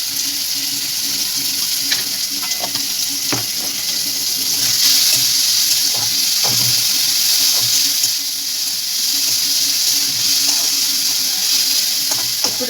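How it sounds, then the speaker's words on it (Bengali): Chopped onion, capsicum and tomato sizzle with salt in a pan for a homemade pizza, a steady, close, hissing fry with faint crackles throughout. "একটু লাল লাল করে ভাজবো।"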